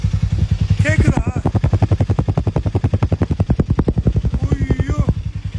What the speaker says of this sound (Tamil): இதனுடைய எக்ஸாஸ்ட் நோட் கேளுங்க.